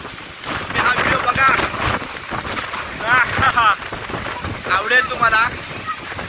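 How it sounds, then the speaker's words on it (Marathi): Strong wind on the Konkan coast roars and buffets the microphone in gusts, with people talking intermittently over the rushing noise. "जोरात बारा सुटला आहे"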